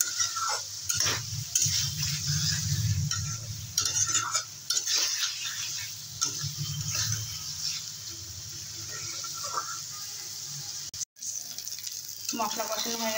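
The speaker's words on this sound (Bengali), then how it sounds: "গ্যাসের ফ্লেমটা কমিয়ে একদম 2-3 মিনিটের মতো কষিয়ে নেব।" Spices with salt, turmeric and Kashmiri red chilli powder fry over a low flame while being stirred in a pan, with steady close sizzling and scraping throughout.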